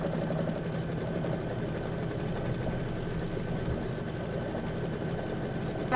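A sewing machine stitching out a quilt block, a steady, continuous mechanical hum and rapid needle chatter that runs unbroken at a moderate level with no pauses.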